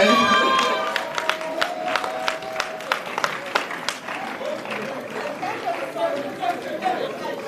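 An audience at a Sierra Leone journalists' awards ceremony claps for an award winner, a steady wash of applause with crowd chatter underneath, starting after a brief tonal sound and continuing throughout.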